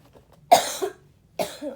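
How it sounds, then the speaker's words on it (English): Two distinct coughs, close and fairly loud, separated by a short pause in an otherwise quiet space. "Oh, man, got a cough."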